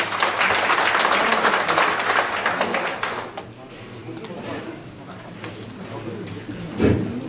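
Audience clapping at a district chamber of commerce general meeting and New Year reception, welcoming a chairman to the stage; a dense burst for about three seconds, then thinner scattered claps with a low murmur.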